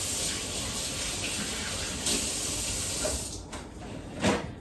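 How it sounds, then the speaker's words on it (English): Running tap water splashing over hands at a kitchen sink while baking a coffee cake, a steady broadband hiss for most of the clip that thins out near the end with a few brief splashes. "And then wash your hands."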